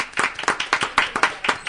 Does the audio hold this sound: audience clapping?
yes